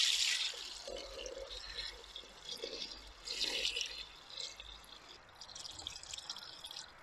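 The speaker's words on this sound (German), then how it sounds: "So, jetzt nur noch Wasser hinzugeben." Water is poured into a cast-iron Dutch oven pot for a Canarian one-pot stew, coming as fairly quiet, intermittent splashes and trickling gurgles in uneven bursts, with no talking.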